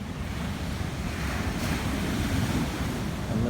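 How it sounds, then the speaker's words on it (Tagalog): Large ocean waves break and roar continuously along a shore, loud and close, with heavy wind buffeting the microphone throughout. "Ang lalaki ng alon."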